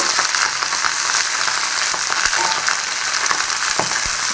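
Garlic, mustard seeds, cumin and dried chillies fry in hot oil with a loud, close, unbroken sizzle, dotted with small pops and crackles.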